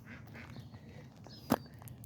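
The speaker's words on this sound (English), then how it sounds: "we got a few teenage ducks here too" Young teenage ducks quacking softly at a distance, a few faint nasal calls with one sharper quack standing out near the end, in a quiet outdoor setting.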